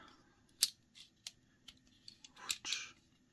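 A Leatherman multitool with scissors snaps and clicks as it is closed and opened, giving a handful of sharp metallic clicks and a short scrape, close and fairly quiet.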